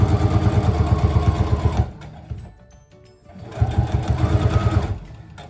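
Sewing machine stitching pleats on fabric runs in two loud, close bursts of rapid, even chatter, separated by a short pause with faint handling noises.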